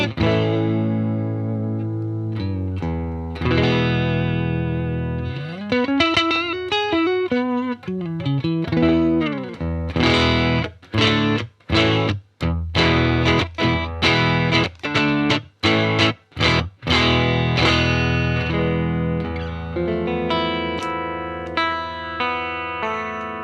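Electric guitar played through a Marshall DSL20CR amp with the delay turned off, distorted and loud, moving from sustained chords into a run of sharp, choppy staccato stabs before ringing chords return, with no voices.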